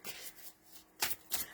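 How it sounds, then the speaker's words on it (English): A deck of tarot cards being shuffled at close range, soft riffling bursts with two sharper snaps near the end, quiet and without talk. "I'm just shuffling some cards to catch the vibe here for Sagittarius."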